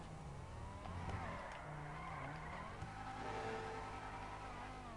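A car drifts and skids in the GTA 5 video game, its engine droning steadily while tires squeal and slide continuously through the whole stretch, loud and close with no talking.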